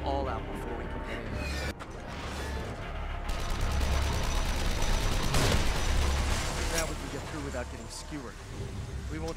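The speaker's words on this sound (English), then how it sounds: "They're shooting from above." Gunfire from enemies positioned above in The Evil Within, a dense burst of rapid shots and impacts under background game music, with a voice talking over parts of it.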